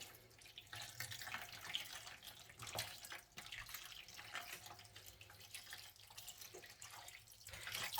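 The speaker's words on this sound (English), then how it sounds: "just going to get some more water in here" Tap water running into a container while dyeing yarn, a continuous soft splashing flow with small clinks, fairly quiet and close, no voices.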